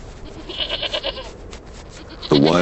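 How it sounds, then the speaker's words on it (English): An Alpine ibex, a wild mountain goat, gives a loud, close bleat near the end, following a stretch of quieter background sound. "Alpine ibex."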